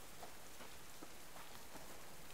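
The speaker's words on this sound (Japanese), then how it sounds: "雨降ってきたな。" Rain falls in the survival video game Subsistence, a steady soft patter with scattered distinct drops ticking on surfaces, faint and continuous with no talking.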